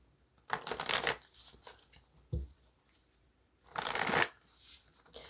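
Tea leaf oracle cards shuffled in two quick riffling bursts, a soft tap between them, close and clear with no talking.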